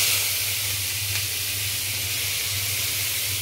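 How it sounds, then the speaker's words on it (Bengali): Onions and chilies hit hot oil in a wok, giving a close, steady hiss and sizzle that holds evenly throughout over a faint low hum. "এখন আমি এই যে এতগুলো পেঁয়াজ আর মরিচ আমি এই কড়াইতে দিয়ে দিব। কড়াইতে অলরেডি তেল আছে"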